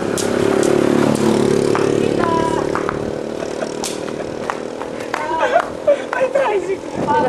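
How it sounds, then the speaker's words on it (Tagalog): A tricycle's motorcycle engine passes along a busy street, loud at first with a steady droning hum and revving, then fading under voices and shouting of people nearby. "Ay, tricycle!"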